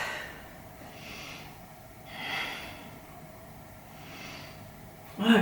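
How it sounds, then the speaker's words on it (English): Slow, deep breaths during a yoga session, three long airy inhale-exhale swells spaced about a second apart, soft and close, ending with a brief louder rustle. "3 big breaths."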